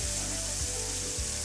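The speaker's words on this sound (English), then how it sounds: "And then when we add our steaks, we'll hear this really great sizzle." Steaks hitting hot vegetable oil in a pan give a steady, loud broadband sizzle that fills the whole moment, with low thumps from the pan underneath and no voices.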